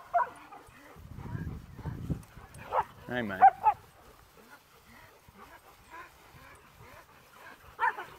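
Dogs bark and whimper on a farm, with sharp yips and whines coming in bursts, some close and loud. Someone talks to them over the noise.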